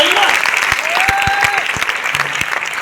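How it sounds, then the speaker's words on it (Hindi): An audience at a motivational product talk bursts into steady, dense clapping throughout, while a voice carries over the applause. "आ जाओ तालियां"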